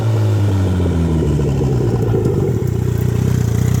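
Suzuki Hayabusa motorcycle engine running loud and close, a steady low idle rumble that shifts pitch with throttle blips, then settles into a rapid pulsing idle; no voices.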